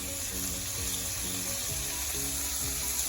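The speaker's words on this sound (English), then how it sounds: "we're going to cook this rice along with the vegetables, or I may say fry, for about 2 minutes while stirring continuously" Washed rice fries with sautéed vegetables in a pan, a continuous sizzle beneath a repeating rhythm of stirring scrapes, close and steady with no voices.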